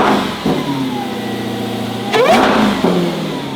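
A wide-body Dodge Challenger muscle car cranks and fires up, settling into a deep, rumbling idle with a few throttle revs, loud and close, without voices.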